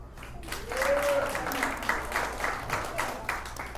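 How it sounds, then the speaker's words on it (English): Applause from a comedy club audience, steady clapping for a few seconds, mixed with voices and a brief whistle from the crowd. "Round of applause if you make a good team."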